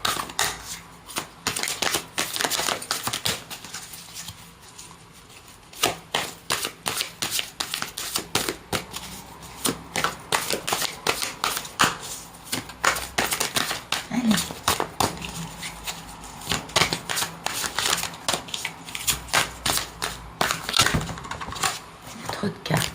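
Tarot cards are shuffled close up in repeated quick riffling bursts throughout, crisp and fairly loud with brief pauses between runs.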